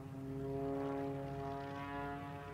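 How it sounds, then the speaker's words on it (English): Propeller engine of an aerobatic airplane performing at the SUN 'n FUN air show, a steady loud droning tone with strong harmonics, holding nearly constant as the plane crosses show center, with no voices over it. "Slide winder now sets up, crossing show center, gonna slide the airplane across the sky."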